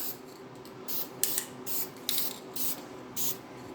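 Short bursts of spray paint are laid as light coats on a 1968 Pontiac GTO 400 oil filter housing, about seven evenly spaced hisses over a steady low background hum.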